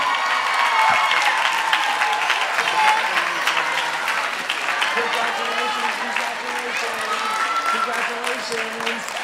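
Dense, sustained applause and cheering from an audience at a dance competition awards announcement, honoring the winning mini dancers at a national event in Phoenix, steady and loud throughout with a host's voice and crowd murmur mixed in.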